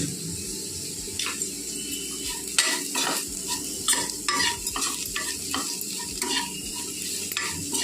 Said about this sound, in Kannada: ಇನ್ನೊಂದು 2 ನಿಮಿಷ ಫ್ರೈ ಆಗಲಿ ಖಾರದ ಜೊತೆಲಿ